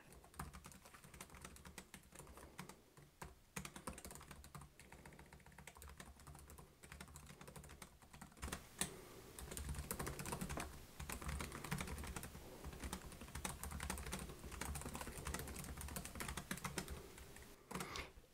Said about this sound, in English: We'll do a quick typing test here.